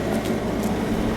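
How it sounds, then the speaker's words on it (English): An air conditioner runs outdoors by a garage, giving a steady low droning hum that fills the background evenly without pause. "That's the air conditioner making noise."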